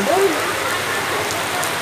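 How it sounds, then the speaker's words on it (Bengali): Steady, dense rainfall hisses continuously on surfaces, loud and even throughout, on a road with auto-rickshaw traffic, with a brief voice-like tone near the start. "প্রচুর পরিমাণে বৃষ্টি, গাড়ি চলাচলের অসুবিধা"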